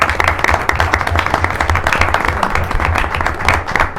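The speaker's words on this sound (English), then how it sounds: "I think you all deserve a round of applause for that." Audience applause at a city council meeting for a graduating academy class, a steady burst of many hands clapping close by, sustained for several seconds.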